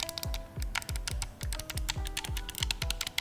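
Mechanical keys clack in a quick, fairly regular run of sharp, close keystrokes, about a dozen crisp clicks with short gaps between them and no voices.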